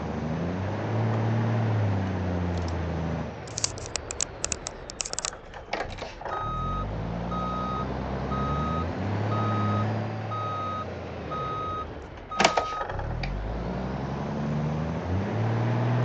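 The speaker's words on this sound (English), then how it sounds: "God, I hate that beeper." A truck's reversing beeper sounds in the BeamNG.drive video game, a regular series of loud electronic beeps over a low engine drone, with clattering bursts in between.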